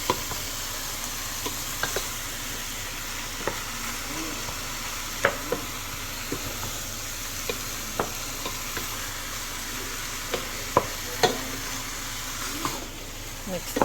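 Food sizzles and fries steadily in a pan while a utensil stirs it, leaving scattered scrapes and taps over a constant hiss, recorded close with no talking.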